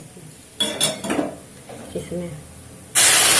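Sugar syrup is poured into gram flour roasting in a pan for a milk and besan sweet, with clinks of utensils against the pan and a loud sizzling hiss bursting in at the end after someone speaks.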